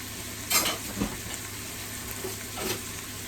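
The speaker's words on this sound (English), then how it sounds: "we're going to go ahead and saute that on up" Steak sautéing in a pan for a cheesesteak sandwich, a soft steady sizzle broken by a few brief stirring scrapes and clatters.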